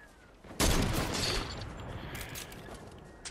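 A burst of gunfire erupts in a Fortnite match, a sharp loud volley followed by a fading rattle of shots over quiet game ambience.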